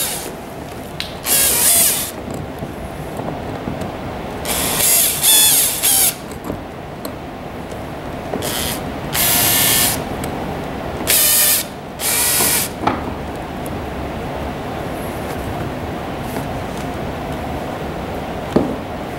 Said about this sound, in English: we can go ahead and secure it by replacing the 2 Phillips head screws